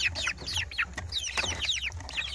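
Joper crossbreed chickens, crossed with Bangkok fighting-cock stock, cluck in quick, repeated chirpy bursts close by, with a low background rumble beneath.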